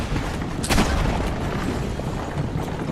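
A barrel blowing up in Assassin's Creed Brotherhood gives a loud, dense boom that swells briefly and then rumbles on as a continuous roar, close and full, with no talking.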